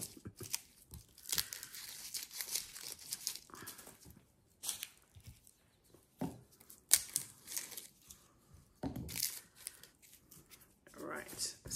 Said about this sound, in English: peeling away the outer leaf stuff.